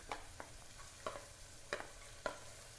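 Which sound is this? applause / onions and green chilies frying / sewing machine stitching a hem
onions and green chilies frying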